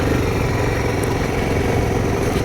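A Suzuki DRZ 400 SM motorcycle engine runs steadily and loudly throughout while riding in second gear at about 10 mph, a continuous mid-pitched rumble with no pauses or talking.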